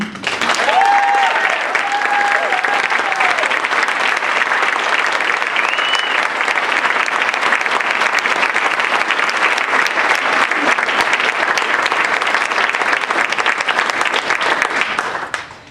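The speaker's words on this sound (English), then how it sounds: "give a big round of applause to our players" Loud, sustained applause from a large crowd, dense steady clapping that carries on for about fifteen seconds before fading at the end.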